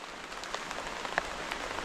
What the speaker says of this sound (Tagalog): Ulyo na naman yung ulan.